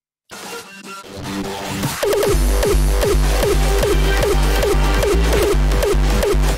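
Two driving hardstyle dance tracks play at once out of sync, their kick drums drifting apart, so the thumps double up into a cluttered, lurching rhythm; loud and continuous.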